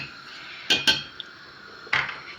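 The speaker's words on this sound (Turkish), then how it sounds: "Şöyle karıştırıyoruz yoksa pirinçler yapışıyor" A spoon stirs rice in a cooking pot as a Turkish home cook makes potato-rice kumpir, giving two quick close metallic scrapes and knocks against the pot, then one more after a pause.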